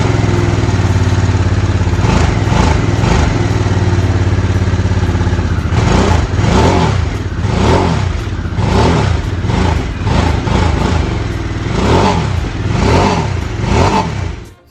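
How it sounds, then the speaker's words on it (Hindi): A 2022 Harley-Davidson Sportster S starts up and its exhaust fires steadily at idle, then roars through a series of rhythmic revving blips, loud and close with no talking. "एग्जॉस्ट आप लोगों को इस बाइक का सुनाते हैं।"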